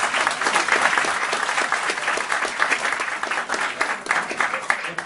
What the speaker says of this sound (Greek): υποδεχτείτε με ένα θερμό χειροκρότημα